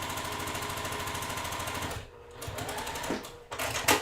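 A sewing machine pieces quilt blocks, its steady rapid needle chatter running close and loud, pausing briefly midway, then resuming in short spurts.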